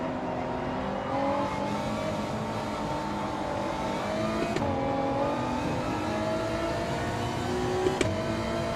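Race cars in a racing video game league drone and whine continuously, engines shifting pitch as they accelerate and brake, with a couple of brief sharp contact knocks over the steady game mix.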